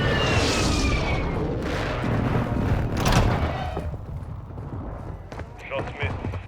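Airstrike explosions in the Warzone 2 battle royale on the Vondel map, with heavy booming blasts and rumbling debris that roll continuously, loud and close, fading slightly toward the end with scattered crackles.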